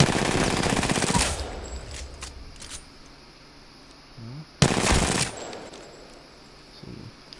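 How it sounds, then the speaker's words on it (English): The RE45 pistol in Apex Legends fires rapidly in two dense bursts, a longer volley followed by a shorter one after a quiet gap, loud and close with faint game noises between. "we're gonna start with the RE45. It's a pistol, which has got a fast fire rate"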